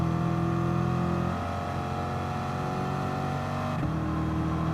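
A Hyundai race car in GT Sport braking into a corner and powering out, a steady loud engine drone with shifting tonal whine and a sudden pitch change near the end, close and continuous, no voices.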